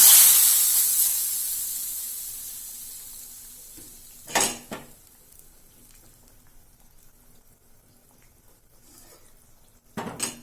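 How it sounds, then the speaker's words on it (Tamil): Mustard seeds and dried red chillies tempering in hot oil for a village-style vanjiram fish curry, with a hiss that fades out, then two short metallic clinks of a pan or spoon. "கடுகு தாளிச்சிக்கலாம் கடுகு குட்டி மிளகா ரெண்டு காய்ச்சி போட்டுருவோம்"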